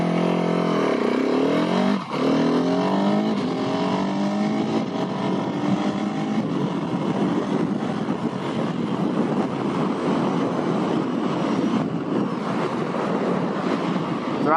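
A Husqvarna 701SM supermoto fitted with a Rottweiler fuel dongle revs hard from a standstill, rising through gears with a loud, sustained engine roar and heavy wind buffeting throughout.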